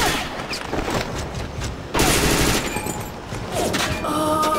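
Rapid bursts of gunfire from several shooters in an SMG round of a shooter video game, dense and continuous with a louder surge partway through, close and loud throughout.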